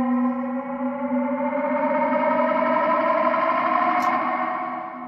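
An EarthQuaker Rainbow Machine pitch-modulation pedal shapes a sustained guitar tone into a shimmering, wavering wash with echoing harmonics, one long note swelling and slowly fading, with no talking.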